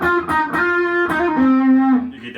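Electric guitar through an MXR Wild Overdrive pedal set for a clean tone, a few loud close picked notes ringing with a touch of grit, the last one held and fading.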